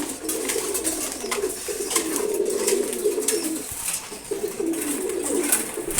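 Several pigeons in a loft at morning feeding coo steadily nearby, overlapping throaty calls forming a constant low burble with a brief pause midway.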